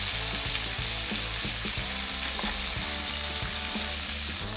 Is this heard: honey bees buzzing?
no